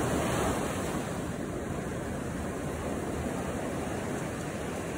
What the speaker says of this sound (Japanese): 波がすごいね。